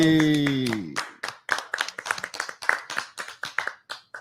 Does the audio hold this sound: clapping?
yes